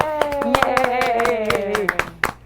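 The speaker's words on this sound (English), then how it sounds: "I could hear it when you clap" A person claps repeatedly in a loose, quick rhythm while a voice sings or speaks over the claps, close and fairly loud.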